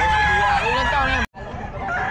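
A Sweater-breed gamefowl rooster crows loudly and close by at a busy Bocaue pet market, one drawn-out call cut off sharply, over a background of crowd chatter and other fowl.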